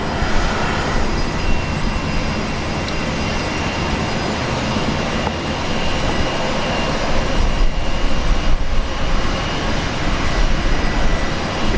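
A heavy United jet airliner takes off at Brisbane International Airport, its engines producing a loud, continuous broadband roar with deep rumble that holds steady throughout without talk.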